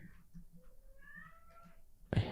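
A cat meows softly in a quiet room, a drawn-out rising and falling meow near the microphone, followed by a sudden louder bump or rustle at the end.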